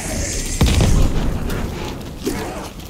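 A C4 charge detonating in Black Ops Cold War Zombies, played on PC: one loud, close, deep boom that rolls and decays over the following second, with a smaller thump shortly after amid a steady game background.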